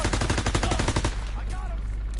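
Rapid automatic gunfire in a military shooter video game, a dense burst of loud repeated shots for about a second, followed by ringing ambient battle noise.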